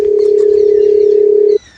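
A telephone dial tone while placing a call at home, one loud steady hum lasting about one and a half seconds before cutting off.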